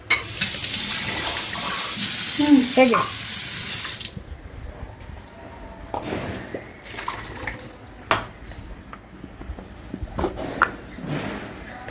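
Water gushes from a tap for a fish curry, a loud steady stream for about four seconds before cutting off, followed by quieter splashes, clinks and kitchen handling, with a brief spoken remark.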